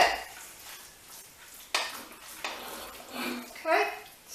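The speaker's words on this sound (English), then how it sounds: "I'm going to give it a really good mix." Tuna pasta with vegetables being stirred in a pan, giving a few quiet scraping and clinking strokes of a utensil against the pan with soft sizzling between them.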